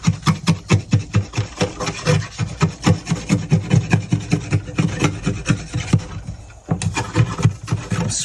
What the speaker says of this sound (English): Scrape this glue off.